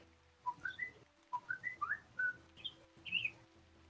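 Clear whistled birdsong comes in three short bursts of rising, chirping phrases, fairly close and alone over quiet background hum; it may be a person whistling in imitation of birds.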